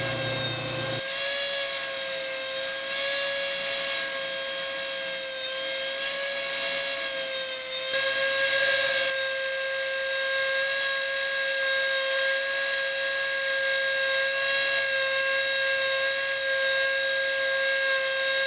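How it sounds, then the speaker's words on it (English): A sanding drum works the edges of a small transition ring for a homemade Star Wars lightsaber, giving a steady, loud, high-pitched whirring grind that runs continuously without pause. "take your sanding drum and finish off the edges"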